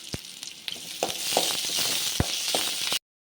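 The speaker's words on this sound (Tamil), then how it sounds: "வெங்காயம் வதங்கிறதுங்க" Onions sautéing in a pan for an egg curry, a steady close sizzle of frying with a few sharp clinks and scrapes from stirring, running alone without talk before cutting off abruptly near the end.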